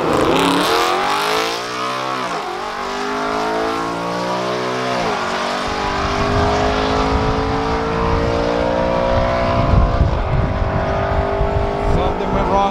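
At a quarter-mile drag strip, a Tesla Model Y Performance races an Audi RS5, the engine revving and climbing through rising gear sweeps, loud and near, while people talk over it.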